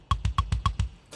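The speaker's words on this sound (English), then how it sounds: "and then the tune track kick sounds like this" A tuned kick drum sample in EZdrummer 2 for heavy metal recording thumps six times in quick succession, deep and boomy with a sharp click on alternate hits, close and alone, ending on a faint noisy tail.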